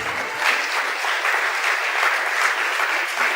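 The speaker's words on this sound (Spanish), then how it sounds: "dale un aplauso a Dios" Steady applause from a church congregation honoring God during a service, dense clapping sustained throughout with no speech over it.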